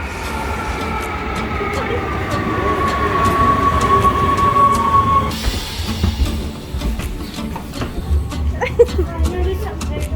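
A tram-train moves through an underground station near Zurich, its wheels squealing high at first, then giving way to a rolling rumble and clatter with voices nearby.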